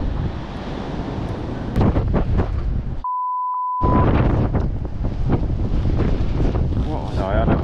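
Blustery wind buffets the microphone in heavy rumbling gusts, broken once by a brief steady beep, with muffled talk underneath, outdoors at a fishing match at Moorlands Farm.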